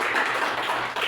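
Brief clapping from a classroom of students during a lesson, a short burst of scattered hand claps of moderate loudness, with no talking.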